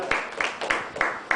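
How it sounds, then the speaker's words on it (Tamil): An audience claps hands in a steady rhythm during a lecture, about five crisp claps spaced evenly and close by, with no other sound between them. "கைதட்டுங்க, கைதட்டு."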